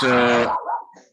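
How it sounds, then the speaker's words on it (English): A dog gives one loud, close bark followed by a short trailing whine or yip, with nothing else heard around it. "Sorry about the dog barking."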